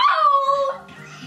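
A dog lets out a single close, mournful howl that slides down in pitch, then tails off into quieter whimpering sounds.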